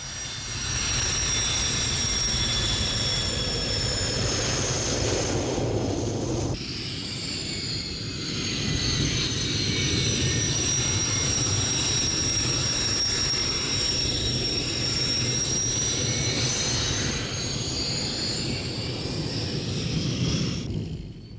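MiG-21 and MiG-23 BN jet engines run on a Czechoslovak military airfield stand around 1980, a loud, steady roar with a high whine layered on top, continuous throughout with a brief shift partway.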